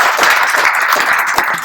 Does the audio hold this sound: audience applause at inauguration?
yes